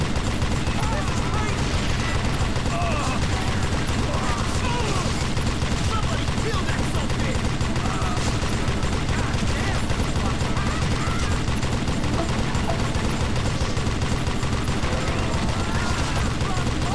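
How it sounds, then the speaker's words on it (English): Relentless, loud Gatling gun fire in the Western shooter Call of Juarez Gunslinger, a steady unbroken roar of rapid shots packed with other battle noise from start to finish. "It was time to settle this once and for all. Gatling gun."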